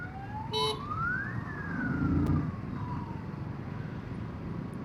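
An ambulance siren wails through city traffic, one sweeping tone rising then slowly falling, moderately distant over a low rumble of engines and road noise.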